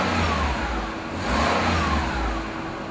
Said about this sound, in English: I'd like to rev the car up so you can hear how quiet it is.